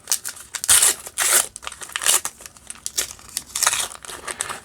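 A paper Flesh and Blood Outsiders trading card booster pack is torn open and crinkled by hand, a run of close, sharp tearing and rustling bursts with brief pauses, no voices.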